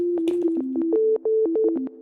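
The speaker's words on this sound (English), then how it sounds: "change the waveform to a sine wave like this" A synthesizer oscillator set to a sine wave plays a quick stepped melody of pure, smooth tones, each note starting with a soft click, loud and alone.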